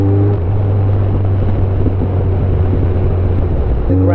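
Kawasaki Concours 14 motorcycle engine droning steadily while riding, a loud low hum with a constant whine, wind rush layered over it throughout.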